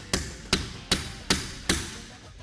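Five evenly spaced, sharp hammer blows strike a blind rivet being set in a vehicle repair job, each a loud close metallic knock with a short ring, then quiet.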